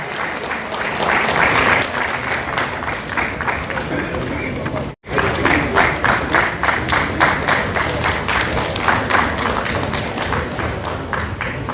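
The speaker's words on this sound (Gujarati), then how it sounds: "ભાઈ તાળીનો ગડગડાટ કરતા રહેજો" A crowd at a stage event applauds loudly with sustained dense clapping, broken by a brief cut near the middle, while a voice talks over it.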